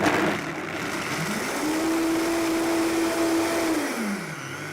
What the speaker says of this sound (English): So blend this up.